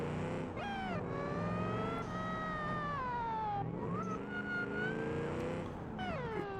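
A car engine in the BeamNG driving game whines and revs with a strained, reedy, harmonica-like tone, its pitch sliding up and down through repeated gear changes, loud and continuous.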